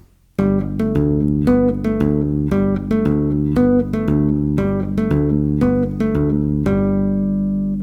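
Tapped bass guitar notes repeating in a dotted eighth-sixteenth rhythm, a steady run of clear plucked tones with ringing harmonics, played alone and close.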